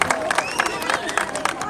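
Audience at a Navratri HR function for a cement works claps and cheers in a steady burst of applause, with crowd noise and voices mixed in throughout.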